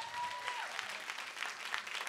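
A live studio audience at a private concert, broadcast on 100% radio, claps in a dense, steady round of applause that lasts throughout with no pause.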